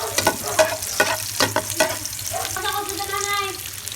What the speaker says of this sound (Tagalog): Sugdan na nato gisa atong lamas